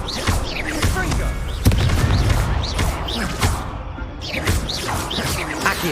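Blasting spell explosions from the Hogwarts Legacy game go off as repeated sharp booms and crashes in a busy combat scene, mixed with whooshing effects and a voice casting spells.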